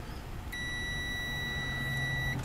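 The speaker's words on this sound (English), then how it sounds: "Now let's try and do continuity, or a beep test as some people call it." Continuity test beep from a multimeter checking an 18650 lithium cell, a steady electronic tone held for about two seconds, loud and clear over low background hum, with no talking.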